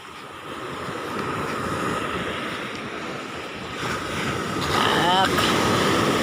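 Strong ocean waves roar and wash continuously nearby at dusk, with gusty wind buffeting the microphone and the surf swelling louder toward the end.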